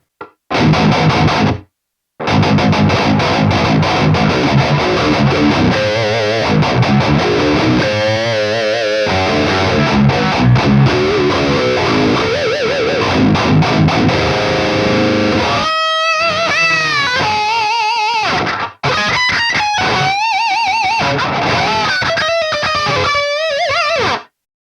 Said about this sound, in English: I still think I have too much reverb here.